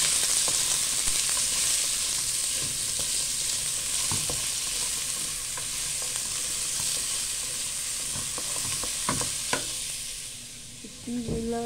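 Vegetables for a carrot, zucchini, celery and turnip soup with ginger and turmeric sauté in a couple of spoons of oil, a steady close hiss punctuated by scattered stirring clicks, fading slightly toward the end.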